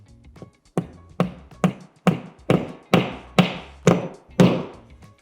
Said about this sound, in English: use your hammer to lightly tap the drywall anchor into place.